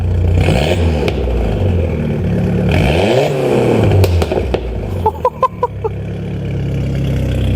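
Drag-prepared Peugeot 405 TCT sedan revved while parked: loud engine swells rise and fall in a few blips, followed by a burst of sharp crackling pops from the exhaust near the end.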